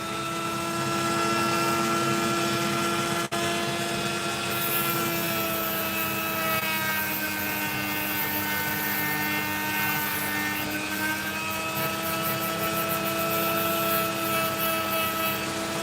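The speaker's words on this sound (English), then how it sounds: "Still, I'll just carve the sand away at least." A high-pitched rotary carving tool whines steadily while cutting sand away from an opal fragment, a loud continuous drone with shifting tonal harmonics throughout.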